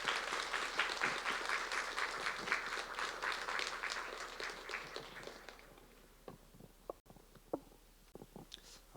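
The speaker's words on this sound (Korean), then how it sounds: "나오실 때 큰 박수로 환영해 주시면 감사하겠습니다." A church congregation at a Sunday service claps, dense and lively at first, then thins out into scattered individual claps before fading to quiet.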